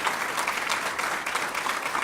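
A crowd at a live announcement event for the NC Children's Health campus in Apex applauds for RXR, dense steady clapping close and full throughout.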